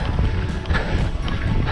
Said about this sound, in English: The wind is blowing your face.